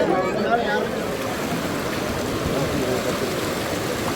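Coracle boat ride on the river at Hogenakkal waterfalls, with a steady, loud rush of flowing water filling the whole scene and faint voices mixed underneath.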